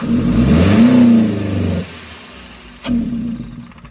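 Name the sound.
Toyota pickup engine revving, RPM capped at 3000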